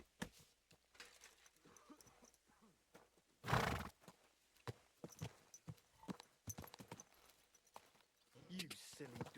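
Scattered hoof clops and thuds with a loud horse snort or whinny early on, interspersed with faint clicks and shuffling, in the video game Kingdom Come: Deliverance II.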